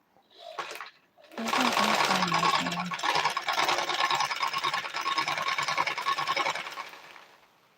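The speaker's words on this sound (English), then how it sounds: "I'll start stitching. Once I get to my waistline area, I'll then stitch out." A sewing machine stitches a child's dress in one loud, steady run of several seconds after a brief start, its fast rattling hum continuous and close, with no talk over it.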